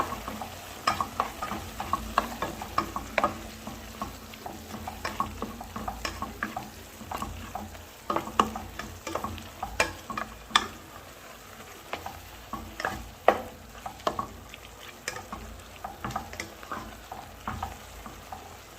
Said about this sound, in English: Then I stir.